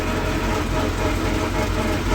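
A YuMZ-6L tractor engine with a replaced crankshaft drones loudly and continuously at close range, a steady low rumble without pauses or speech.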